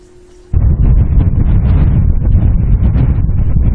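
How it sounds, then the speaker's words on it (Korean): Wind suddenly picks up on a summer Central Asian grassland, roaring loudly and buffeting the microphone with a heavy, rumbling low-pitched rush that continues without letting up. "갑자기 바람이 세졌습니다"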